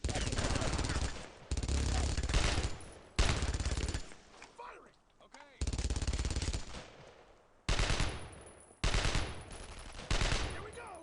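Machine gun fire in the World War II shooter Brothers in Arms: Road to Hill 30: loud, close bursts of automatic fire, each lasting about one to two seconds, separated by short pauses, with faint voices in between.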